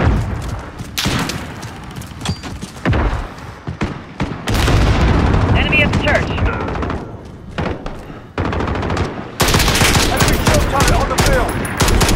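Loud volleys of automatic rifle fire and booming shots ring out in a Call of Duty: Modern Warfare 2019 team deathmatch on the Arklov Peak map, dense and sustained with brief lulls and faint voice callouts.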